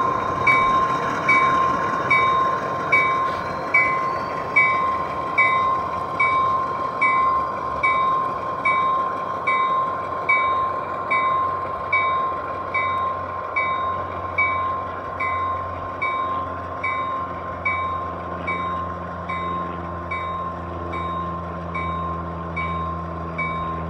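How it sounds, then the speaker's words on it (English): A G scale model train's locomotives back up slowly to couple onto a train, with a steady, regular clicking rhythm over the rails and a constant high mechanical tone, close by and continuous. "The mid-train DPUs will now back up and hook on to the remaining train."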